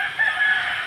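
A rooster gives a short, loud, strained crow, heard clearly and close for under a second.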